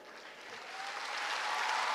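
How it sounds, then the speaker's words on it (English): Applause at an induction ceremony for newly qualified medical and dental practitioners, rising quickly from soft scattered clapping into fuller, steady applause across the hall. "the applause is not commensurate with the 6-7 year"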